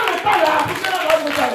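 Congregation clapping at a Sunday church service of teaching and prayer, steady rhythmic claps throughout with voices singing or talking over them.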